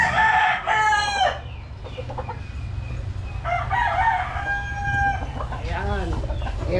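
A rooster crows near the start and again later, with hen clucking in between over a steady low hum, during a chicken delivery run in Caloocan.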